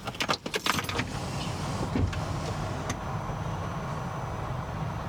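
A Smart ForTwo's ignition is switched on and the small car starts up, with a brief burst of clicks and whirring at the start, then a steady close engine hum idling alone.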